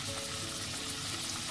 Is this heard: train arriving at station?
no